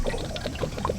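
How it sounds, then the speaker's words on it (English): Water gushes and gurgles out of a water heater tank's drain in a steady pour, with bubbly glugs rising irregularly over about a second. "There comes the water."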